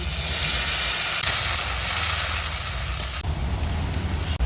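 Water poured from a rinsed bowl into a hot pan of mustard and green chilli paste sets off a loud, steady steaming hiss that eases abruptly partway through and fades to a quieter simmer.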